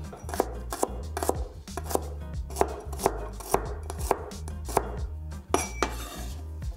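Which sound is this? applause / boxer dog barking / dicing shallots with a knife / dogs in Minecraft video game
dicing shallots with a knife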